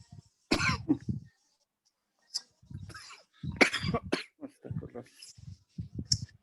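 Several close, harsh coughs and throat-clearing bursts break out one after another during a Quranic recitation class in Bogor, scattered irregularly across a quiet room.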